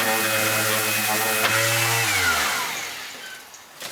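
An electric sander works veneer filler paste into a wooden surface with a loud steady whine, then winds down and fades out as the tool is switched off, and a faint rustle follows. No one speaks.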